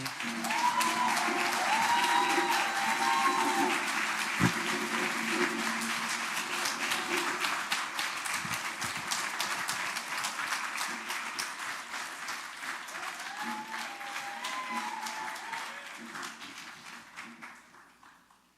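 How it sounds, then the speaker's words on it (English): Sustained audience applause at a Malcolm X Day community event, dense clapping from a crowd that holds steady and slowly fades toward the end, with faint voices mixed in. "Give our sister another round of applause."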